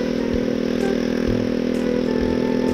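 A motorcycle engine is held against its RPM limiter, a loud, steady buzzing drone with brief stuttering cuts where the limiter intervenes, close by and with no voices.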